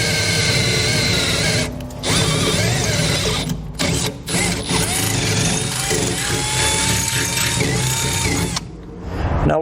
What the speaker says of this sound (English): before we drill our holes